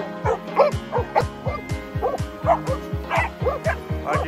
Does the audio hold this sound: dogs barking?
yes